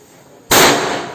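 One loud Vishu firecracker explodes in a sudden sharp crack following near silence, the blast ringing and decaying gradually over the next half second.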